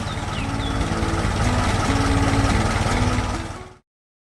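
A tractor engine runs with a steady mid-pitched drone, loud and close, holding evenly for a few seconds before cutting off abruptly.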